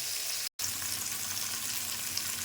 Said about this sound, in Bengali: এই মাছ ভাজার তেলে টমেটো একটু হালকা ভেজে নেব।